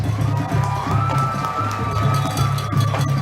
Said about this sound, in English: Let's give all of the bands a big round of applause.